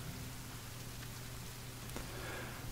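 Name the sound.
rain falling in the video game The Forest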